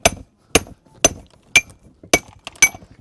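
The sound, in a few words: stonemason's pick hammer dressing stone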